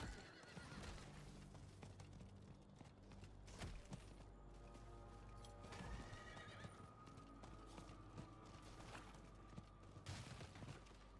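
Horse hooves clip-clop steadily with whinnies in a video game, layered over game music and effects at a constant, fairly loud level, with no talk.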